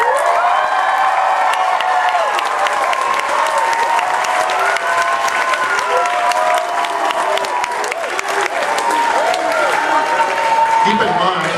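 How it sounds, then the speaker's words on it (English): Sustained applause from a large audience at a middle school spring concert, dense clapping throughout with whoops and cheering voices mixed in, steady and loud. "Let's give them a round of applause."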